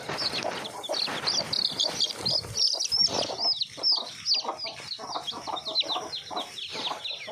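Farm chickens cluck steadily while small chicks peep in high, rapid chirps throughout, a busy close-up chorus with little else beneath it.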